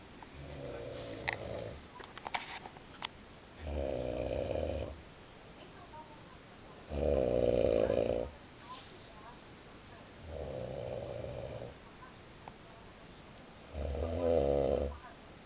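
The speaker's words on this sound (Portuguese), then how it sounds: "Para de roncar" A man snoring nearby, loud rasping snores in a slow steady rhythm about every three seconds, with quiet pauses between them.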